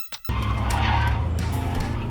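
Pickup truck skidding on an icy road during a reckless overtake: a sudden loud tire squeal and sliding roar that bursts in and continues steadily, with engine rumble beneath.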